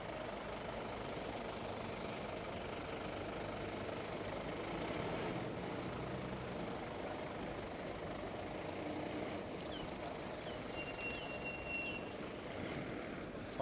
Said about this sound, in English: Fire engine getting off.